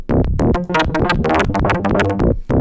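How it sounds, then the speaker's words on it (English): East Beast and West Pest synths sequenced by an OXI One play a busy run of short, punchy bright notes in a steady rhythm, loud and close with no talking. "the East Beast, the West Pest, just getting a couple little note values from the OXI"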